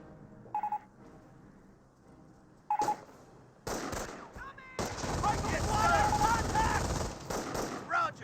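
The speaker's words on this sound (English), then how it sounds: "Rifleman squad now receiving some MG42 bursts." Short bursts of MG42 machine-gun fire in the World War II strategy game Company of Heroes, a few brief chattering volleys early on, then a dense, loud stretch of battle gunfire and clatter filling the rest.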